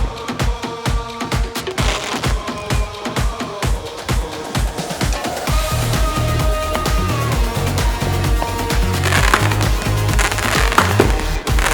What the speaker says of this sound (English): We're on our way down to watch some 4th of July fireworks.